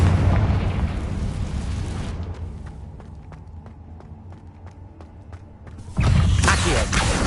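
A Confringo fire spell explodes in the Hogwarts Legacy video game, a loud booming blast opening the stretch, then quieter clicks and rumble before a second heavy burst near the end.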